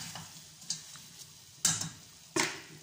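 Food frying in a pan and being stirred, with quiet sizzling broken by a few sharp utensil scrapes and clacks spaced about a second apart.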